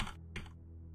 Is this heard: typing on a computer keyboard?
yes